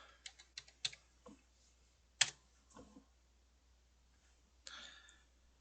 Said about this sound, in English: So in local chat, we just type help.